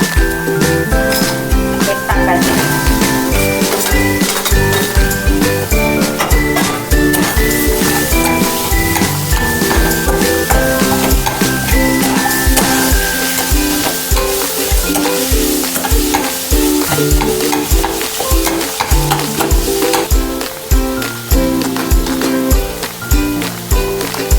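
Cut potatoes fry with chillies in a pan for sabudana khichdi, with loud, continuous sizzling and repeated stirring scrapes under a tonal background.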